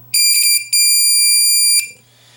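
Buzzer on an LM317 regulated power supply build sounds loudly in two bursts, a short one followed by a longer steady electronic tone lasting about a second, then stops.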